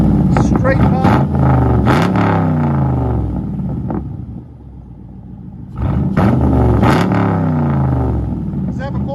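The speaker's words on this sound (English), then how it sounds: "Chevy Camaro True Dual straight pipe." A Chevy Camaro SS with a 6.2L V8 and a true dual straight-pipe exhaust revs hard twice in loud, close bursts of rising and falling engine roar with a brief lower idle between them. People talk over it.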